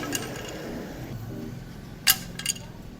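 An Alp Sport badminton racket dropped onto concrete gives a sharp clatter with a quick second bounce, close, over faint background murmur.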